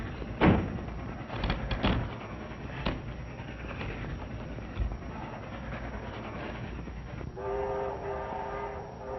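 A train rumbles past with clattering wagons and a few sharp knocks, then its horn sounds a sustained chord near the end, all on an old, narrow-band recording.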